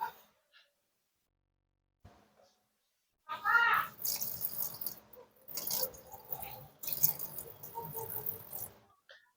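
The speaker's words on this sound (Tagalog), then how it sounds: "Tapon natin yung tubig." Water poured off a batch of washed white oyster mushrooms, several splashing bursts with drips in between, close and moderately loud, with a short pause before the pouring starts.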